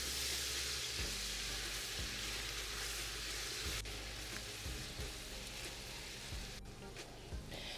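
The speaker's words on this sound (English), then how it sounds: "Stir it in and continue to cook until these onions become perfectly caramelized" Onions with ginger and spices fry in a pot for jollof rice, giving a continuous loud sizzle with periodic scraping thumps from stirring throughout.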